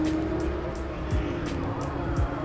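An Arctic Silver Porsche 993 Carrera with the motor sound package and Cup 2 tires, idling and revving at a busy car gathering, a steady close engine drone with a couple of short swells.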